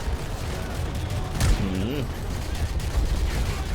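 Gunfire in Call of Duty Modern Warfare 3, a dense steady stream of shots and explosions throughout, with a louder burst near the middle and a voice briefly talking under the battle.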